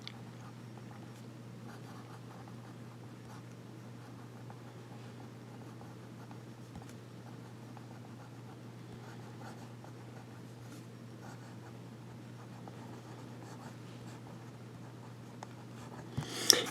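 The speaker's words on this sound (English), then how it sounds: "The pen writes very well. The nib is smooth." A Nemosine Neutrino fountain pen with a medium nib writes on paper, a faint, soft scratching in short strokes over a quiet steady hum, close and alone.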